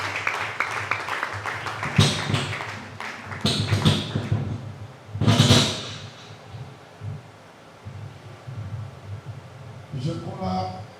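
A church congregation at a worship service breaks into scattered clapping and acclamation in bursts, with a loud swell in the middle, while voices call out and talk carries between the outbursts.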